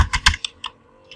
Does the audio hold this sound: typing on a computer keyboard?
yes